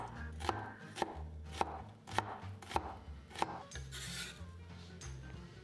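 A knife chopping shallots on a board, about six evenly spaced crisp knocks followed by softer scraping, close and fairly quiet.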